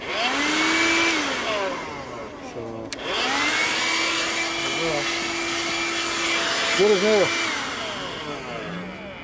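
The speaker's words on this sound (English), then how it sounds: "Alright, so there's a vacuum cleaner." A small 12V portable car vacuum cleaner, a 2018 Audew, whines steadily throughout with a brief cutout, while someone talks over it.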